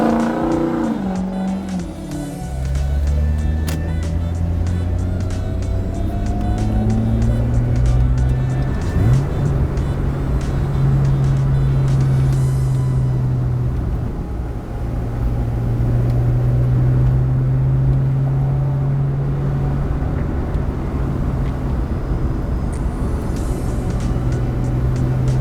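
A 230whp naturally aspirated Mazda Miata drives on the road, its engine revving up through the gears with a rising, strained tone, dropping at shifts and holding a loud, close drone from inside the car.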